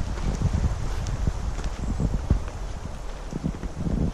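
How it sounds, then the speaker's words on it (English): Gusty wind buffets the microphone with low rumbling and rustling, steady throughout with occasional thumps. "A little on the windy side."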